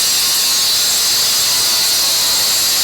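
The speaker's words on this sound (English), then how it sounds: "So we used an angle grinder to cut the rod" An angle grinder cuts a stainless steel rod for a frameless glass shower door install, giving a loud, steady, unbroken high-pitched grinding hiss throughout.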